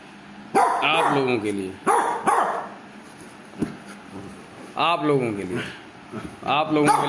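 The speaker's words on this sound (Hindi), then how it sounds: "मेरा कुत्ता भी यहाँ आ गया है" A pet dog barking nearby indoors in sharp, loud bursts, several barks in quick clusters separated by brief pauses, with some whimpering yips between them.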